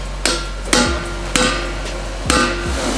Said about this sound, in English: we gotta puncture a hole through them